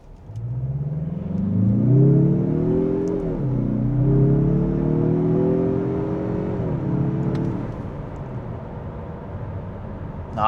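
A 2025 Mazda CX-30 Turbo, heat soaked, accelerates hard from a standstill. The engine tone climbs steadily, drops briefly at a gear change, then climbs again before easing off. The sound is loud and close, with no talk.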